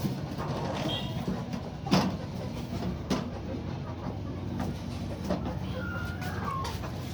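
White Kelso chickens cluck softly in a roomy coop, giving a few scattered calls and rustles over a faint, steady background hum.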